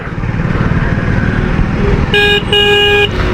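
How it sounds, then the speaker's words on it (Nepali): A vehicle horn sounds in two loud blasts, the second longer, over steady engine and wind rumble during a KTM motorcycle ride on the road between Dharan and Itahari. "अब यहाँबाट चाहिँ हर्न बजाउँदै जानुपर्ने हुन्छ"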